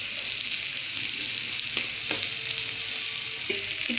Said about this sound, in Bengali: এখন হালকা করে ভাজবে। হালকা হালকা বাদামি হতে হবে।